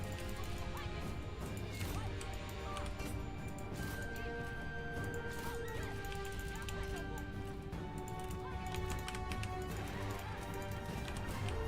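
Horse hooves galloping in a Total War: Three Kingdoms battle, a continuous clattering gallop mixed with crashes and clashing combat noise throughout, steady and fairly loud, no talking over it.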